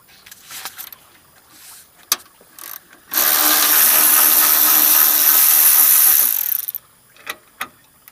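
A ratchet wrench unbolts the upper radiator support on an 8th-gen 2006-2011 Honda Civic Si with a K20Z3 engine, a loud continuous ratcheting burst of about three and a half seconds, with scattered clicks and taps before and after.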